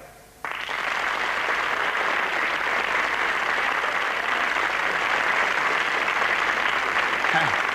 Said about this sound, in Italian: E qui c'è un applauso.